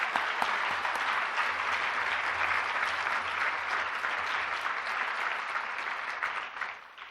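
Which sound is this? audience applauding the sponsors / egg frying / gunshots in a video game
audience applauding the sponsors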